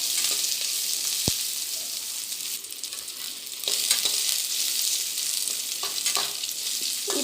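Steady sizzling of shallots frying in a pan, with a continuous bright crackle and occasional stirring clicks, no voices.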